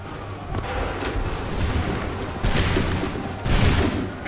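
A rolling musket volley in Assassin's Creed 3 on PS4, with dense overlapping gunfire and booming reports swelling in waves over a continuous battle roar.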